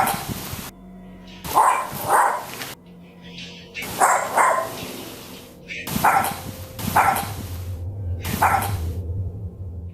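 A dog at home, caught on a security camera, gives repeated loud barks and yips in bursts spaced a second or two apart, close and clear, with some background noise between them.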